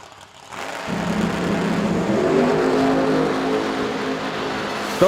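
A 1955 Chevrolet and a Camaro launch down a drag strip at an outlaw drag racing event. A loud engine roar builds and holds, rising in pitch as the cars accelerate, with no voices over it.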